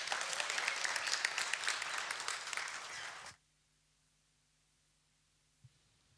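Church congregation applauding together, a dense, steady burst of many hands clapping for about three seconds that then stops abruptly, leaving a quiet room with faint hum and one small knock.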